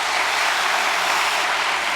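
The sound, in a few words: audience applause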